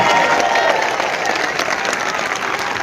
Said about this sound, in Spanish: ¡Aplauso para la Iglesia de nuestro Señor Jesucristo!